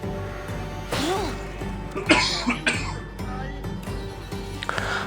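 A couple of harsh, close coughs from someone with a fever and cold break through a quiet room, with soft voice sounds and a throat clearing between them.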